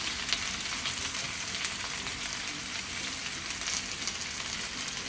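Spices and seasoning paste sautéing in olive oil in a pan, a steady, close crackling sizzle throughout with small pops, no voices.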